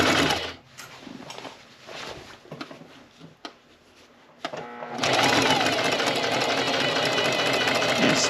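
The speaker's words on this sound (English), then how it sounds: "I'm going to stitch a little bit, then I'm going to back stitch" A sewing machine stitches a pants seam, with short stop-start bursts and pauses at first, then a loud steady run of rapid mechanical clatter for the last few seconds.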